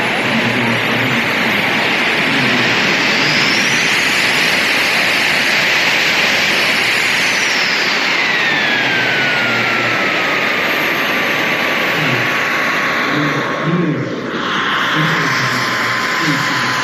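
A model jet aircraft's turbine roars steadily at an air show, a loud continuous whooshing whine with rising and falling pitch sweeps as it passes, while commentary talks over it.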